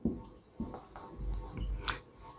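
Chalk or marker scratching across a board during a Class 12 maths lesson on limits, a few short strokes and taps in quick succession, close and clear with no talk over it.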